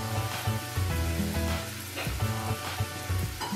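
Chicken fillet sizzles and fries in an uncovered pan, a constant crackling hiss with frequent spitting pops and occasional louder bursts, close and steady throughout.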